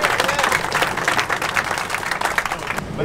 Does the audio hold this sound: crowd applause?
yes